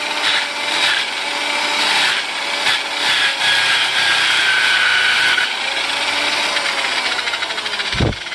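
A screwdriver scrapes a clogged spinning polishing pad used on aluminum wheels, a sustained close grinding rasp with a few harsher bursts, then a low thump at the end.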